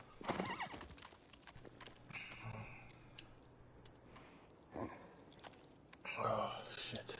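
A horse in the video game Shadow of the Colossus, with clip-clopping hooves and a loud neigh near the start and another whinny near the end, among scattered game noises.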